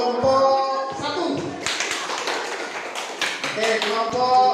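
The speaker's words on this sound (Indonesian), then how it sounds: "Tepuk tangan untuk kelompok 1." Students in a rhythmic gymnastics class applaud a group that has just performed, with a burst of scattered, close handclaps that starts after a moment of voices and continues for several seconds.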